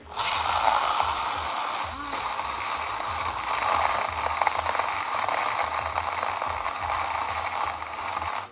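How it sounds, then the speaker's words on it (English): A cheap one-dollar blender runs continuously with a rough, rattling mechanical whir that wavers slightly in strength, close and steady for over eight seconds, with no speech. "Let's try blending again."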